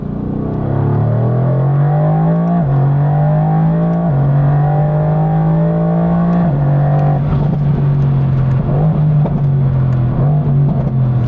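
A Renntech-tuned 2020 car accelerates hard, its loud engine note climbing repeatedly in pitch with several distinct gear shifts, the roar steady and close with no speech.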